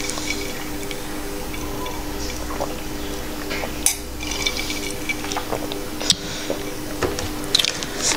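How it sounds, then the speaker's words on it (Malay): Steady rain falling outdoors during a Malaysian curry shrimp and salted fish mukbang, a continuous soft wash of water noise throughout with occasional small clinks and squishy eating sounds in the foreground. "Tapi kalau korang dengar bunyi air-air tu, sorry lah ya. Sebab bunyi hujan kan."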